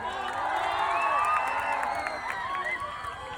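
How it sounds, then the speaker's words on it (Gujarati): A large crowd at an outdoor public gathering in Dindoli, Surat cheers, whoops and claps in a sustained, loud roar, with shouted voices mixed through the noise. "જોરદાર તાળી થઈ જાય"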